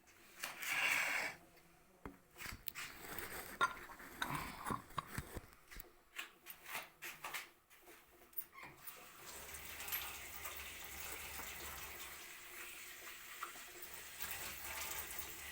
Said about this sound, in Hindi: अब मुझे ये धोने पड़ेंगे पहले बर्तन।